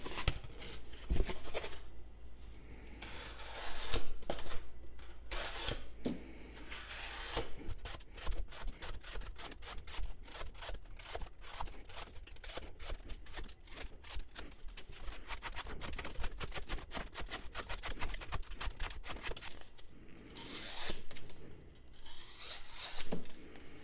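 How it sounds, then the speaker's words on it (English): A Petrified Fish Beluga knife with its factory edge slices through cardboard in a dense run of quick, rasping tearing strokes, close and crisp, with brief pauses between bursts and no talk. "we're going to cut up some cardboard with the factory edge"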